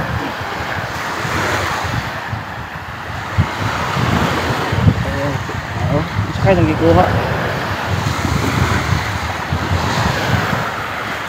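Big ocean waves and strong wind along the shore at Buenavista, Agusan del Norte, make a constant rumbling surf and buffeting gusts on the microphone, with people talking briefly over it.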